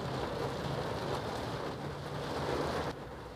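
Steady heavy rain falling during a drive through a narrow alley, a dense continuous hiss of drops on surfaces that dips slightly in the final moment, with no voices.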